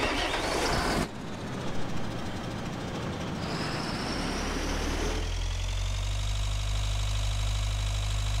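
A video-game tractor engine from Agricultural Simulator 2013 drones steadily while driving back to the farm. A rough burst opens it, then comes a sustained low rumble with a rising whine that settles into an even idle-like hum.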